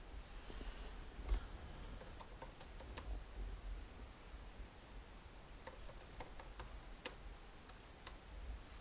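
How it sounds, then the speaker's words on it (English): Quiet typing on a computer keyboard, scattered light key clicks in short irregular bursts over a faint background hiss. "let me type this command."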